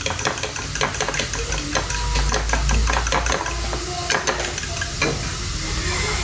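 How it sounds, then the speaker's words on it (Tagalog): Beaten egg seasoned with salt being whisked briskly in a bowl, a fast rhythmic series of close, loud clicking strokes running the full length without talk, over a low steady hum. "Mix lang. Mekas lang natin yung ating itlog."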